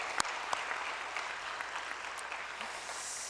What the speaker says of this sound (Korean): 한 번 더 큰 박수로 한 번 더 격려하겠습니다